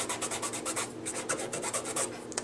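Rubbing on a piece of test fabric: a quick, even run of about a dozen rasping strokes, close and clear, with no voices.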